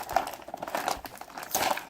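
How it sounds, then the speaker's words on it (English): Crinkling plastic and cardboard as Star Wars figure packaging for Rey and a Praetorian Guard is torn open by hand, a close, busy run of rustles and crackles lasting a couple of seconds. "I just want to rip it open"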